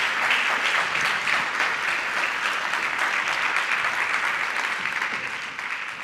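An audience at a round-table session applauds, a dense, continuous clatter of many hands that stays strong throughout and eases slightly at the end.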